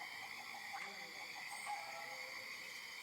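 Frogs croak softly across a swamp as part of a tabletop game's background ambience, a faint steady bed of chirps and insect-like drone with no clear voices.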